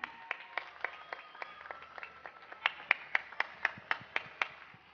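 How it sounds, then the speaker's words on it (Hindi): On a 2017 TV Eid special, a small studio audience claps sparsely for an arriving guest: a dozen or so distinct, sharp hand claps in a loose rhythm, fairly faint and dry. "बहुत सारी तालियां फरहान के लिए"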